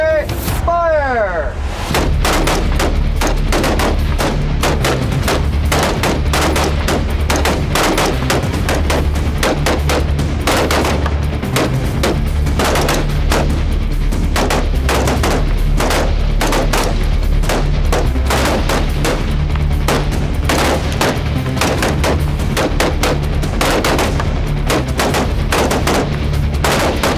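Continuous rifle fire from several shooters on a shooting line, dense overlapping cracks that keep going without a break, loud and close with no pauses.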